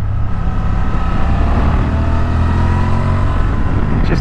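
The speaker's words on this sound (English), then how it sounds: "It's not obnoxiously loud, but it lets you know that you're having fun on a motorcycle." A 2023 Honda Transalp motorcycle engine running steadily while riding, a smooth, moderately loud, close hum mixed with wind rush, unbroken throughout.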